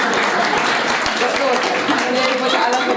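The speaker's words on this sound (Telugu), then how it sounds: "కనుక ఒకసారి చప్పట్లు కొట్టేది" A hall audience at a Telugu speech by a doctor claps in a thick, continuous wash of applause for three seconds, with voices faintly mixed in.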